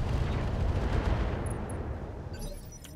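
Mech weapons firing in the BattleTech mod RogueTech, a loud burst of booming gunfire and explosive rumble that fades over three seconds, with sharp metallic pings near the end.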